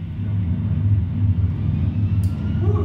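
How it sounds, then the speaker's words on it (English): A steady low rumble from a bass shaker in a Boeing 737-700 flight simulator setup, like vibration through a seat or floor, continuous and droning with no speech over it. "You hear the bass shaker working."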